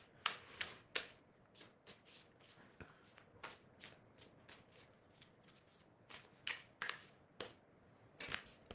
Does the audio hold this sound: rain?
no